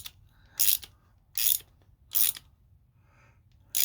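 A ratchet wrench with a 17 mm socket tightens a brake line fitting on a custom brake line for a Honda Civic EK: three short, loud bursts of ratcheting clicks separated by quiet pauses, with a fourth starting at the end.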